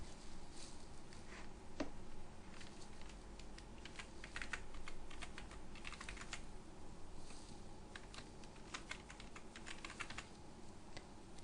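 Keys clatter on a computer keyboard in quick irregular bursts while text is entered into accounting software, soft and close with no talk.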